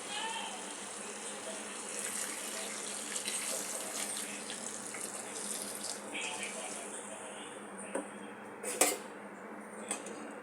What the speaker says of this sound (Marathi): आता याच्यामध्ये आपल्याला गरम पाणी ओतून घ्यायचं आहे.